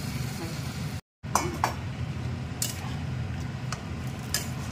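A lid being set over a cooking pot of prawns in onion gravy with water added: a few light metallic clinks ring out over a steady low kitchen hum, with people talking.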